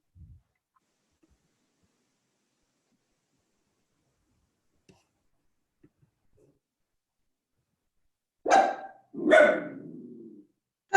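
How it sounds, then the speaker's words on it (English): A dog barks twice in quick succession, close and fairly loud, after several seconds of near silence broken only by faint clicks. "when you hear dogs"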